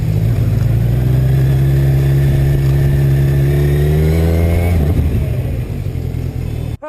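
A 2020 Kawasaki Z1000 (Base) motorcycle engine drones loud and close under acceleration. Its pitch holds steady, then climbs as the revs rise before cutting off abruptly.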